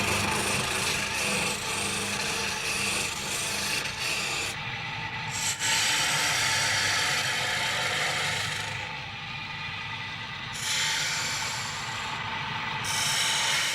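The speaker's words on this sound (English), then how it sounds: "The metal parts are filed down and sanded, so no rough particles remain that could snag the spinning wool." Metal parts of an Irish spinning wheel being filed and sanded by hand, a steady close rasping and rubbing that carries on through the whole stretch with brief pauses, no voices.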